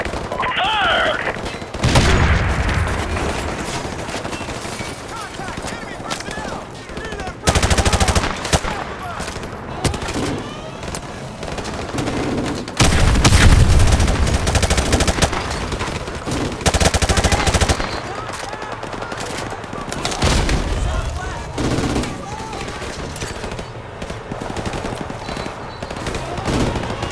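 Gunfire in Call of Duty Modern Warfare Remastered during the aerial 'Death from above' mission: loud, sustained bursts of heavy automatic fire and booming impacts in long stretches, with shouted radio voices mixed in.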